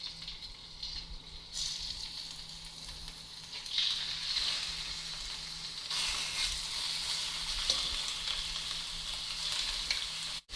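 Chicken pieces fry in a hot, oiled pan for noodles, a loud continuous sizzle that swells after the food goes in and then keeps hissing steadily, with faint stirring scrapes.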